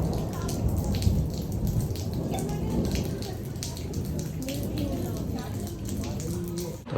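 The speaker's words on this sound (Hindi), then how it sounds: "यहाँ पे अभी तेज़ बारिश शुरू हो चुकी है, मतलब घमासान बारिश, तेज़ तेज़, फुली तेज़।" Steady, dense rain roars without letup, a thick wash of drops close by, with some faint indistinct sounds mixed underneath.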